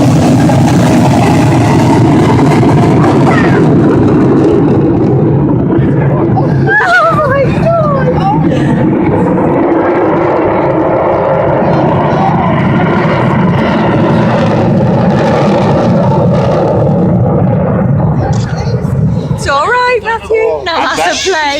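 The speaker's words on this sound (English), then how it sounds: "That's a plane. Famous Vulcan." An Avro Vulcan jet bomber flies past at a seaside air show with a loud, continuous roaring rumble that covers the whole stretch, while the crowd nearby chatters and calls out over it.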